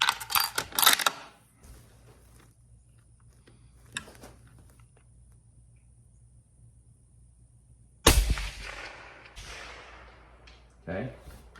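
A single sharp rifle shot fired from a shooting bench cracks out loudly after a stretch of talk and near silence, with a brief echoing tail.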